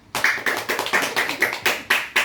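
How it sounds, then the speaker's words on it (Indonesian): A school class claps hands together in about eight sharp, rhythmic claps, close and loud, in a quick even beat. "tepuk tangan semuanya"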